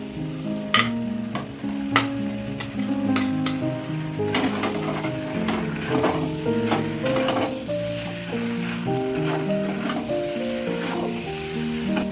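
Fried paneer and raisins go into a sizzling pan of spiced gravy, giving a steady close frying hiss with repeated stirring clicks and scrapes, all over background music.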